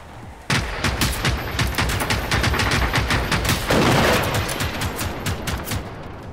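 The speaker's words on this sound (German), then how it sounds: "Wow, die schießen zurück." Dense rapid gunfire from enemies in the video game Generation Zero, a sustained crackling volley of overlapping shots with no pause, swelling louder for a moment near the end before easing slightly.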